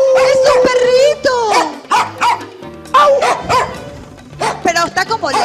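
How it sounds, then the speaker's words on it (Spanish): A small dog barks and yips repeatedly in short, high, close bursts, some drawn out into whiny notes, with pauses between the barks. "¡Ay, es un perrito!"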